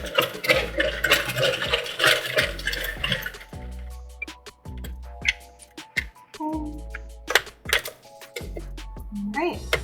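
A knitting machine carriage is cranked back and forth to release a knitted top panel, giving clicking, clacking mechanical passes and rattles in bursts, with talking mixed in.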